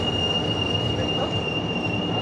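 A Sairang to Kolkata passenger train arrives at Bhairabi station, its wheels squealing in a loud, sustained high whine over a heavy rolling rumble close at hand.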